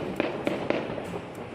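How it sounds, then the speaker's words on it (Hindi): Diwali firecrackers burst nearby in a quick series of sharp cracks, roughly four in a row, then trail off, heard outdoors near a train standing on a washing line. "आज दिवाली का दिन है और हर जगह ये पटाखे फूट रहे हैं।"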